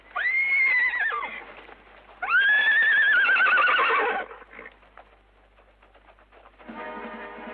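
Horses whinny loudly twice in close succession, long rising-and-falling neighs, followed by a quieter stretch of hooves clip-clopping and a brief burst of movement in a spaghetti western scene.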